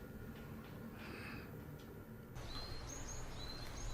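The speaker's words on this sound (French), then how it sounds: "Nous entendons des oiseaux chanter." Birds sing outdoors in a quiet, leafy green spot, with faint high chirps and short warbling calls rising over a soft background hiss in the second half.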